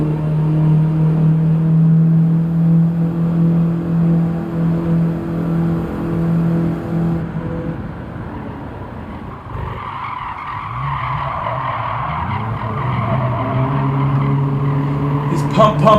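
A Toyota Prius G '09 race car in Gran Turismo 7 at Laguna Seca drones loudly under throttle, engine pitch holding then dropping and rising again, with tire skids and squeals layered over the steady roar.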